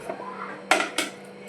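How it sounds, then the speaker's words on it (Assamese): Two crisp knife strokes through paneer on a cutting board, close and distinct, spaced about a quarter second apart, after a brief quiet lead-in. "মই কাটি আছোঁ পনীৰ"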